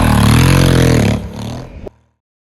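A Honda Africa Twin motorcycle fitted with a full aftermarket exhaust system revs hard and loud up close, holding a roaring pitch for about a second before dropping back, a brief second blip, then cutting to silence.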